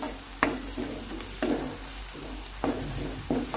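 A spoon stirs turmeric into a taro root masala curry in a pan. There is a steady sizzle with several distinct scraping strokes at intervals, close and clear, and no talk.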